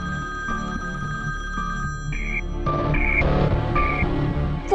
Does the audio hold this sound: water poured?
no